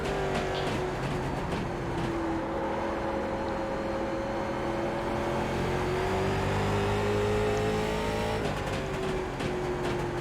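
A late model race car engine drones continuously at Langley Speedway in iRacing, its pitch easing down and rising again as the car rolls through a corner, loud and close with no talking.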